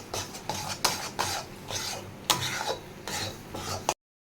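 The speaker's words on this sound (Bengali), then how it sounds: "কন্টিনিউয়াসলি এটাকে নাড়তে হবে পেস্টটাকে" Chana dal paste for laddu stirred continuously in a pan, a rhythmic series of thick scraping strokes, about nine distinct sweeps with soft low sizzle between them, close and alone before cutting off abruptly.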